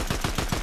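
Rapid video game gunfire rattles in a quick burst of about five close, loud shots in under a second.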